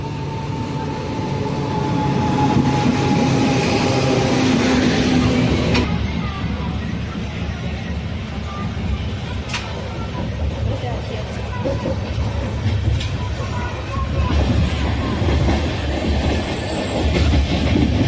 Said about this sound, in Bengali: দেখো ট্রেন আমাদের ঢুকছে এবার।